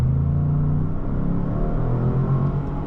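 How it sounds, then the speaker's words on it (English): A 2025 Lincoln Navigator L Black Label's engine pulls steadily under acceleration, a continuous low rumble with a rising drone heard from inside the cabin, loud and unbroken with no talking. "I'm really impressed with how fast it is and the engine sound"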